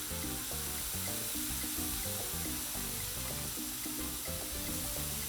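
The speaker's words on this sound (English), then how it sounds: "You can hear the sizzle." Bacon cheeseburger patties sizzle loudly and steadily on a Blackstone 22-inch griddle, a dense continuous frying hiss throughout with no talk.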